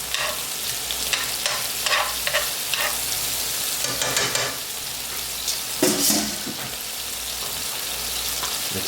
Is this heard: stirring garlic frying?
yes